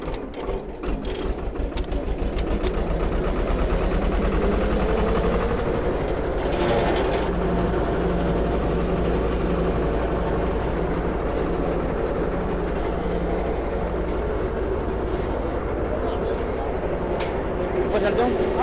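A tractor-driven atta chakki flour mill, powered by a 20 hp tractor, runs steadily with a loud continuous low mechanical drone and grinding rattle throughout, while voices talk faintly underneath.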